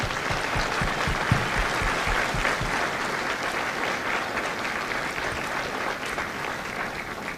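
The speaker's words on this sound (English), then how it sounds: "if you would all please join me in a round of applause for the families of Kilo Company" Audience applause for the families of recruits at a Kilo Company Marine Corps graduation at MCRD San Diego, a large crowd clapping loudly and steadily throughout with dense, sustained claps.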